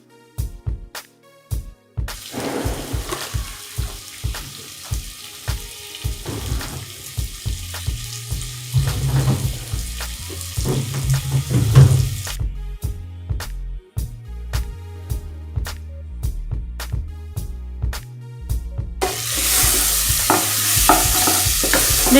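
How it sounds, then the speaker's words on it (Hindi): Masala frying in oil in a pan over a medium gas flame, with steady sizzling broken by repeated spoon scrapes and stirring clatter, a louder hiss swelling near the end. "इसे थोड़ी देर अच्छे से फ्राई होने दे।"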